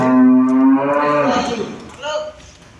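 A two-tooth dairy cow lets out one long, loud moo close by, the low drawn-out call falling away at the end.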